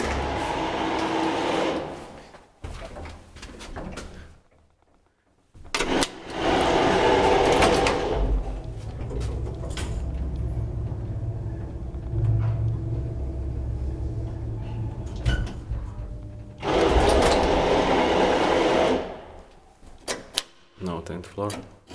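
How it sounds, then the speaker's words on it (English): An old Soviet MLZ traction elevator running in an apartment block stairwell in Justiniškės, Vilnius, Lithuania: a steady low mechanical rumble and hum, broken by loud clattering bursts like doors and gear engaging near the start and end. "This amazing Soviet elevator."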